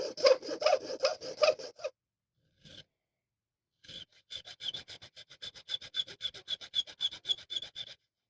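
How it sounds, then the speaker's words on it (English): A single cut file rasping on bone while a keychain is carved, heard as quick, rhythmic back-and-forth strokes in short bursts, close and fairly quiet, with brief pauses between runs. "for the bone work, I prefer single cut files"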